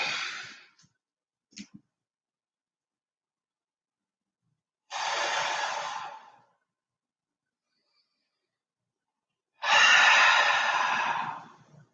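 Deep, slow breathing during a yoga flow in side plank, a short breath at the start followed by two long, audible breaths about five seconds apart, each rising and fading, close with silence between.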